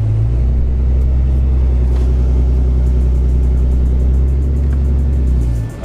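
An off-road vehicle drives along beach sand in a loud, close, steady engine drone with a deep rumble, holding an even pitch throughout.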